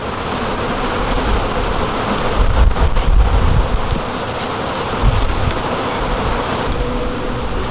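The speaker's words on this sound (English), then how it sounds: "we got some bunches of bees here. Well, we got bees here too." Dense, steady buzzing of many bees close by at a bee tree, a continuous swarm hum with slight swells throughout.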